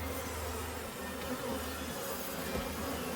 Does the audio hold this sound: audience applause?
no